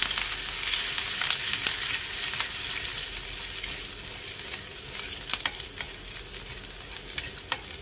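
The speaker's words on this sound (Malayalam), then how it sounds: "ഇതിലേക്ക് നമുക്ക് ആദ്യം പച്ചമുളകും പിന്നെ ഇഞ്ചിയും കൂടെ ഇട്ടിട്ട് നല്ലോണം വാട്ടിക്കൊടുക്കാം" Green chillies and ginger sauté in hot oil with spluttered cumin, giving a continuous close sizzle with scattered sharp crackles and occasional stirring scrapes.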